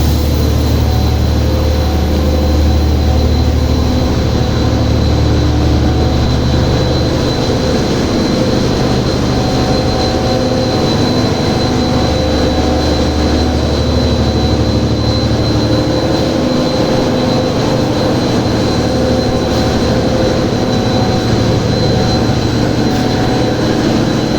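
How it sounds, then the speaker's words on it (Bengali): A motor-driven vacuum pulling tile dust through a tile powder machine, a loud, steady industrial roar with a low hum that runs without a break. "এই মোটরের মাধ্যমে ভ্যাকুম যেরকম করে এই ডাস্টগুলো আপনার এটা দিয়ে টেনে নেয়"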